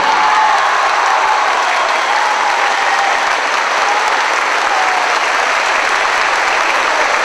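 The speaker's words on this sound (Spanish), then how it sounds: "ahora segundo y último aplauso" A crowd at a carnival queen election applauds a neighborhood representative, a loud, sustained roar of many hands clapping evenly over several seconds, filling the space without pause.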